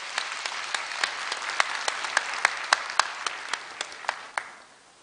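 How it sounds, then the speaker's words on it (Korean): Graduation-ceremony audience at Korea University bursts into applause to welcome the university president, a steady close patter of many hands that swells with sharp individual claps, then thins and fades out toward the end. "염재호 총장님을 큰 박수로 맞이해 주시기 바랍니다"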